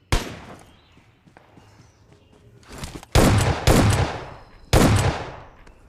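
PUBG Mobile gunfire: a sharp shot opens, then after a quieter stretch three loud, close bursts of automatic fire crack out in quick succession, each trailing off.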